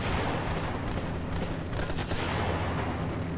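Continuous dense gunfire in a video game, a sustained loud crackling fusillade of rapid shots blending into a steady roar for the whole stretch, with no voices.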